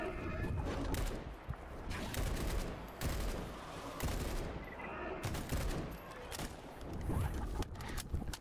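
Rapid gunfire in the shooter game S.T.A.L.K.E.R. GAMMA: dense bursts of automatic shots crackling nearly nonstop, punctuated by sharper cracks, heavy and close with brief lulls.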